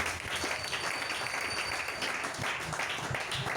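A church congregation applauds Jesus in steady, dense clapping that fills the whole stretch, loud and continuous without breaks, with faint voices mixed underneath.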